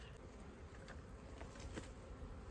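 Honey bees buzz steadily at a spring hive in the Texas Hill Country, a dense, even drone that fills the whole moment close by without pause.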